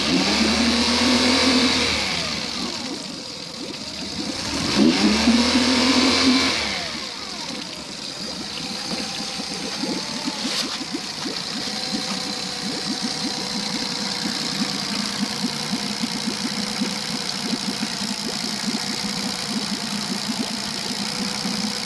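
A Tohatsu EFI outboard engine revs up twice, loud and close, with a rising roar in the opening seconds, then drops back to a steady idle that runs on for the rest of the clip.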